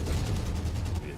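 Missiles fire during mech combat in the video game MechWarrior 5: Mercenaries, a rapid volley of launches over a heavy low rumble with a steady rattling pulse, loud and dense throughout.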